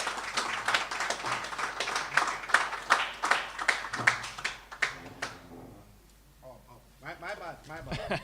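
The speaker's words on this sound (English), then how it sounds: "let's take a round of applause for Ricardo Chambers" An audience at a track and field meet claps for a speaker, steady applause for about five seconds that fades out, followed by a voice talking over the quiet.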